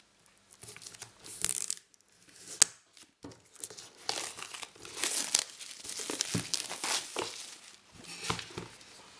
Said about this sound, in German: Ich entferne dabei schon mal die Folie.